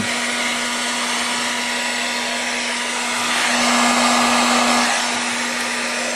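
A heat gun blows hot air onto the corners of plastic bags, giving a constant whirring hum with a steady tonal drone, rising briefly louder midway as it is brought closer, with no voices.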